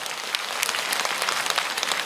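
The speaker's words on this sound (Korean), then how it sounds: "내가 박수 받으려고 그러는 게 아닌데" Audience applause fills a hall at a Korean talk about hospital surgeries funded by donations, a dense, steady clapping that lasts throughout without a break.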